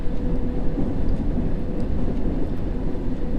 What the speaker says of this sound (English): This looks like a tube train.